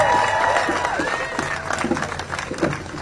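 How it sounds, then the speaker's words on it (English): Crowd at a Harvard student and faculty rally for international students applauding and cheering, a broad continuous wash of clapping with whoops, fairly loud and sustained across the moment. "Let's hear another round of applause for Ray, Avinash, and Victor."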